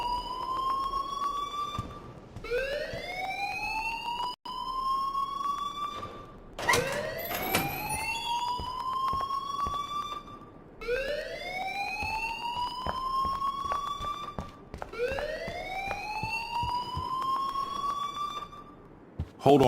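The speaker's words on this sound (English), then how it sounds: "please turn off that alarm since that's your job" A school alarm in the game Life is Strange wails in repeated rising sweeps, about four long cycles in a row, loud and steady with no talk.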